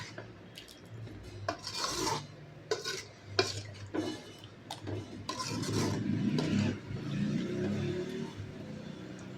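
Dried anchovy thokku stirred in a pan with a spoon, a series of scraping strokes and clinks against the metal, with a soft sizzle growing underneath in the later part.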